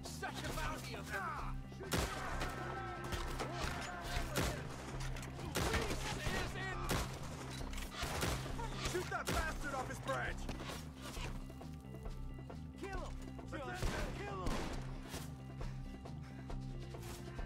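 Many gunshots crack in rapid, irregular volleys as shooters fire at enemies up in trees. The shots sit under shouting voices and a steady droning background.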